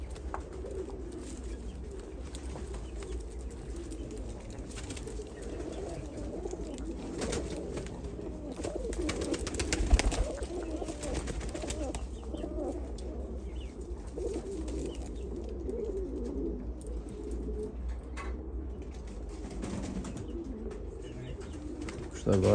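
Pigeons coo softly and steadily in the background, with faint rustling and occasional light bumps, and no clear talking.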